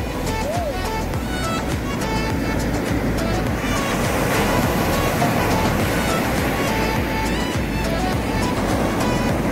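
Continuous loud surf roars at Melasti beach, waves breaking steadily and washing ashore close by, with a little faint chatter in the background.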